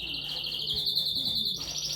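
Canaries chirping in a continuous, high, rapid trill, close and clear, with a slight pitch change partway through and no talking.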